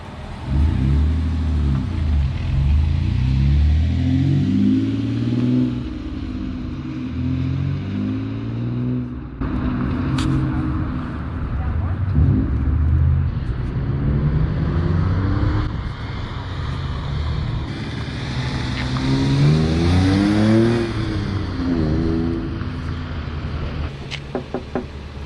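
A 2002 Mercury Cougar's 2.5-litre V6 engine revs up repeatedly with a manual gearbox, pitch climbing and dropping with each gear change, loud and close throughout with no talking.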